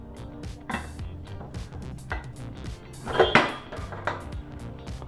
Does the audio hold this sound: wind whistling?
no